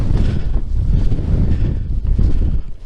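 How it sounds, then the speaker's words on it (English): Wind gusting loudly across an exposed coastal walkway on the route from Dunbar to Dunglass, a steady heavy rumble buffeting the microphone with swelling surges and no voices. "I'm not a fan of the wind."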